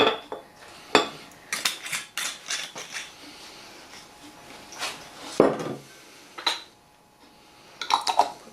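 A sterilised lid goes onto a glass jar of crab-apple liqueur: a close series of sharp clinks and clattering knocks, spaced irregularly, with quiet pauses between.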